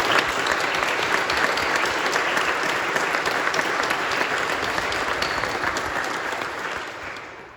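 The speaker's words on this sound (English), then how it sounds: "Let's cheer for them together." Graduation ceremony audience applauding steadily, a dense wash of many hands clapping at once that holds strong throughout and fades slightly near the end.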